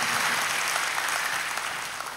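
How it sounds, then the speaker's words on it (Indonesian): Early-morning church congregation in Solo applauds in praise, a full, sustained roll of many hands clapping that tapers slightly toward the end. "Kasih tepuk tangan buat Yesus Tuhan kita"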